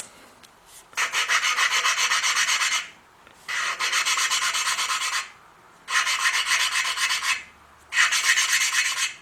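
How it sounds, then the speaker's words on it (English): Four bursts of dry, rasping back-and-forth grinding as a Willys engine valve is lapped by hand with a lapping tool, each about two seconds, separated by short pauses; close and fairly loud with no talking. "we're going to get our little lapping tool here"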